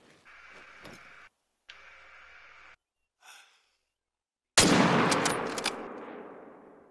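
A rifle shot in the hunting game Call of the Wild cracks out sharply and loudly, then rolls off into a long decaying echo, coming after quiet breathing and short pauses.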